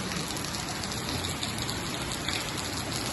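Steady rain falling, a dense continuous patter with no voices, constant in loudness throughout.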